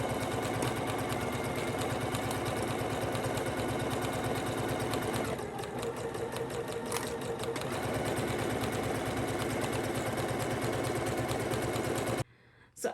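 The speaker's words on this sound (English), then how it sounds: "Take this to your machine and sew it at 5/8 on each side," A sewing machine stitches the side seams of a jumpsuit in a long, steady rapid whir with a brief slowdown midway, then stops near the end.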